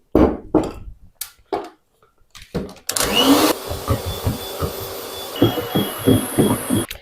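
An electric mixer whips jelly for a marshmallow-style dessert, whirring steadily for several seconds, loud and close, with clatters and knocks before it starts.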